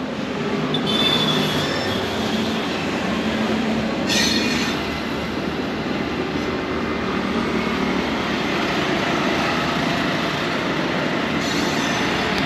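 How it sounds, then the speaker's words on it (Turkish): An old colonial-era train runs in India with a loud, continuous rumble and wheel squeal, sharpened by bursts of screeching metal. "İngilizlerin sömürge dönemlerinden kalma trenler."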